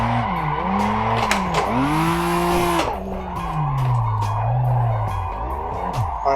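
Engine revs rise and fall as a car drifts through a third-gear pull in the Assetto Corsa racing game, loud and close, with tire squeal and skidding under the shifting engine note.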